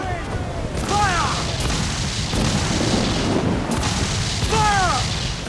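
Booming cannon fire from Assassin's Creed Black Flag rolls out in repeated heavy blasts over a constant roar of wind and sea, while a voice shouts battle cries throughout.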